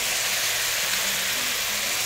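Onion, cabbage and squash stir-frying with soy sauce give a steady, dense sizzling hiss that carries evenly throughout, with no talking.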